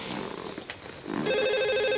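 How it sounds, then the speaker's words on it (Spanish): A telephone rings inside a home during a Peruvian TV drama scene, its steady electronic trill starting partway in and holding loud and clear over a faint room background. "El teléfono."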